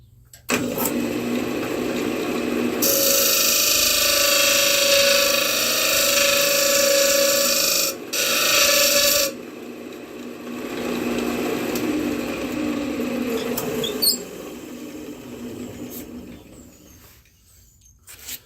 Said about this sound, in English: let me clean that up real quick, and we'll get this sanded flat